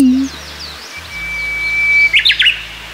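A Japanese bush warbler sings nearby in northern Harima, Hyogo: a long, clear rising whistle, then a quick flourish of sharp notes, loud against quiet surroundings.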